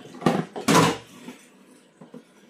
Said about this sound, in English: let me start washing the dishes